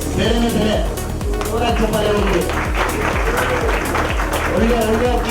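Applause from the crowd at a Girebaaz pigeon tournament prize distribution ceremony in Bengaluru, steady clapping running beneath a loud amplified announcer's voice with a rhythmic music beat.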